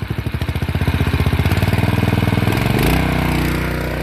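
A Harbor Freight trash pump's small engine catches after a one-handed pull start, chugging in rapid pulses that settle into a steady, loud running drone close by, with no talking.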